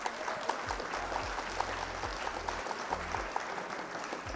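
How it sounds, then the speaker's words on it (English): Scattered applause from a small group, steady light clapping throughout, with a faint low hum and murmur beneath it. "Round of applause for our coach."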